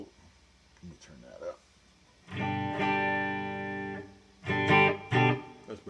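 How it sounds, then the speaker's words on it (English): Clean neck-pickup tone from an Ibanez JEM77FP electric guitar through TC Electronic Hall of Fame 2 plate reverb, sounding as a long sustained strummed chord and then a few shorter struck chords, with quieter picking at the start. "Just some plate reverb from my trusty Hall of Fame 2 TC Electronics pedal. That's the neck pickup clean."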